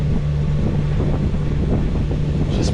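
Wind buffets the microphone aboard a sailboat under motor and sail, a steady loud roar with a low engine hum underneath and no speech.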